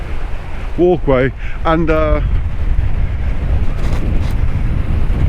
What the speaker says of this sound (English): oh, my mic's coming off in the wind